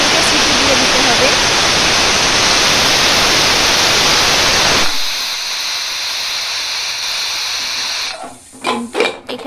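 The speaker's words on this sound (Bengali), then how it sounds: "কুকারটা এবার গ্যাসে বসিয়ে দেব। সিটি দিয়ে দিতে হবে।" Pressure cooker on a gas stove during chana masala cooking, loud steady steam hiss for about five seconds, then a softer high whistle-like hiss, ending with a few clatters.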